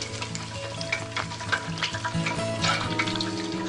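Steady hot-oil frying crackles and sizzles throughout as chicken deep-fries, with faint clinks and bubbling, no voices.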